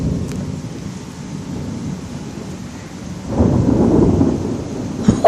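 Loud thunder rumbles through a windy thunderstorm, a deep rolling boom swelling partway through, with rain and wind noise around it and a sharp crack near the end.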